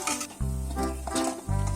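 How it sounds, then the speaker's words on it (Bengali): Close frying sizzle of potatoes browning in oil, with stirring and scraping in a pan, punctuated by a low hum and clattering utensil sounds. "আলুগুলো প্রায় ভাজা হয়ে গেছে আমি আর একটু লাল লাল করে আলুগুলো নামিয়ে নেব"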